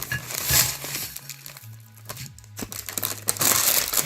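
Plastic packaging of a Japanese instant noodle pack crinkles and crackles up close as it is cut open, with irregular bursts of rustling and a brief quieter pause in the middle.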